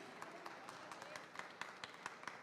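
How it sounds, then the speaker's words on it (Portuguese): A church congregation claps in scattered, uneven bursts, fairly faint and continuous, with speech mixed in. "Podemos aplaudir Jesus por isso?"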